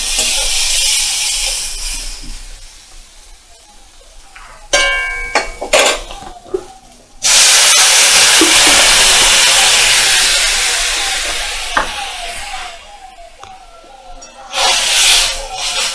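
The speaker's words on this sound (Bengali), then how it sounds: "এবার আমি জল দিয়ে দেবো এতে" Water poured into hot spiced masala in a pan for a Maha Shasthi thali, a sudden loud hissing sizzle that erupts and slowly dies down, with clattering utensil knocks and scraping around it.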